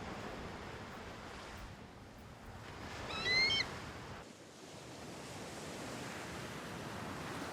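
Ocean surf at Hiriketiya Beach, Sri Lanka, rolls as a steady, soft wash of breaking waves, with a slight swell midway and a faint bird call over the top.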